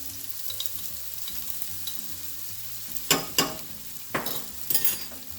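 Garlic added to a pan of caramelizing sausage and peppers, a steady close sizzle of frying with a few louder scrapes and clinks of a utensil stirring near the end.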